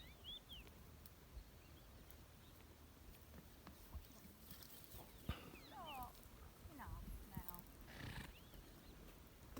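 A donkey kept with sheep gives a few faint, rasping, pitch-sliding calls in the second half, heard at a distance under quiet outdoor ambience with someone talking.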